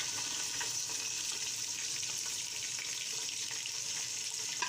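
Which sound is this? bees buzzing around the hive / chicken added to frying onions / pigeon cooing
chicken added to frying onions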